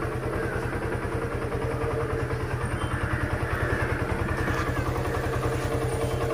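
A fuel-injected Suzuki Gixxer motorcycle idles steadily after a timing setup, its even, rapid low thumping close and constant with a light mechanical clatter over it, no talking.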